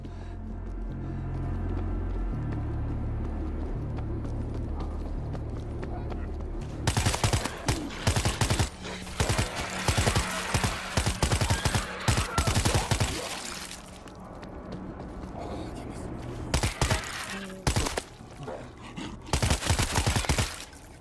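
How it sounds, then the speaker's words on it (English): Bursts of automatic gunfire in a Tokyo-set video game: loud, rapid fusillades of shots arrive in repeated clusters after a quiet rumbling start, with gaps between the volleys. "Gunfire from the bus."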